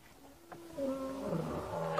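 Male lions roar on an African safari near a buffalo kill, deep drawn-out calls that layer and overlap, loud and fairly close, with no talk over them.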